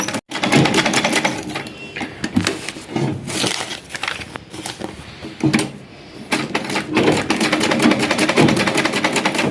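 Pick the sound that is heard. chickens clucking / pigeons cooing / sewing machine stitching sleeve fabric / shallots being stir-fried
sewing machine stitching sleeve fabric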